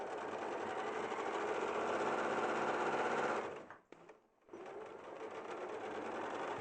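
A sewing machine runs a straight stitch on a pocket in a steady, close hum, briefly stops for about a second, then resumes its continuous whir.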